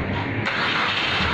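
A Suzuki M13A petrol engine, swapped from a Liana into a Swift Sport, cranks and catches, then settles into a loud, steady run close by.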